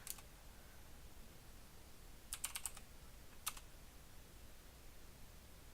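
Brief bursts of keystrokes on a computer keyboard while a password is entered, a quick cluster of clicks followed by a single lone tap, fairly faint over a steady low room hum.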